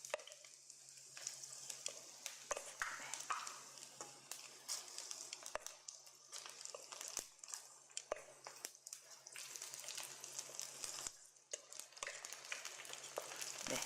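Eggplant pieces deep-frying in hot oil as Korean-style sweet-and-sour eggplant is made, a steady broadband sizzle with scattered crackles and occasional clinks running throughout, moderately faint with a faint low hum beneath.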